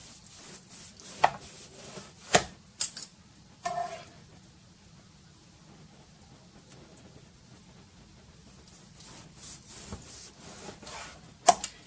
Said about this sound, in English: I'm going to just cut up another few slices.